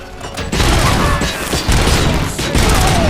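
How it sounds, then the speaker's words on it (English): Gunfire in a video game comes as bursts of loud, close booming shots with rattling recoil, repeating in quick clusters over a few seconds. "I'm getting shot and the recoil is like..."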